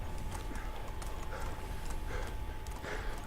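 A donkey's hooves clip-clop in a steady walking rhythm across Medieval Dynasty's wolf territory, soft and somewhat distant under a dense game ambience.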